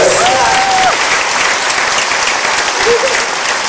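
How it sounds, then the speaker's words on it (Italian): Loud, continuous applause fills a sports hall during a concert, with a large crowd clapping densely and a few faint voices and cheers rising through the sustained roar. "l'applauso del nostro palazzetto dello sport"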